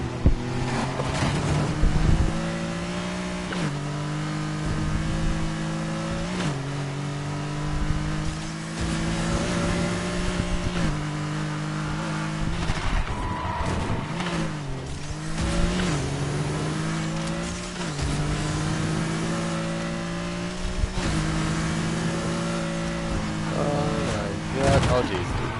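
Modified car exhaust revving repeatedly in Need For Speed Heat, a sustained droning engine note that climbs and drops with shifts, loud and continuous throughout.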